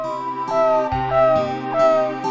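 A dog in the Final Fantasy VII video game lets out a repeated high, tonal whine over synthesized game music, three drawn-out cries in quick succession.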